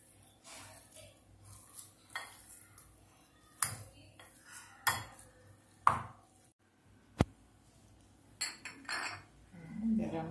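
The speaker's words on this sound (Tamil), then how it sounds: "இதை வந்து மேஷ் பண்ணிடலாங்க" Boiled potatoes being mashed for aloo paratha in a bowl, heard as scattered close clinks and knocks of a utensil against the dish between quiet pauses, with faint background sounds.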